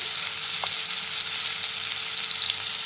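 Cardamom, cinnamon and cloves frying in two spoons of hot oil for a dhaba-style paneer masala, giving a steady, close sizzle with faint stirring, alone without talk.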